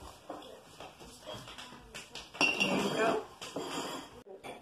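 Cutlery and dishes clink as kids eat lunch at home, with scattered light metallic taps and scrapes close by, a busier cluster midway, amid soft household noise.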